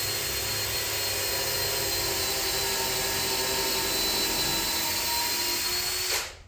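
A power drill bores a pilot hole in a tabletop on a makeshift workbench, a loud, steady whine held close for about six seconds before cutting off abruptly.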